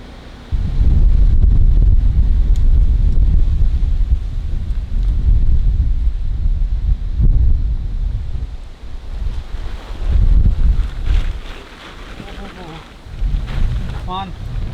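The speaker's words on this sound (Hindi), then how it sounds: "तूफान." Storm wind buffeting a solo camping spot in extreme weather, loud gusty roaring with rumbling surges that rise and fall over about fifteen seconds, close to the microphone.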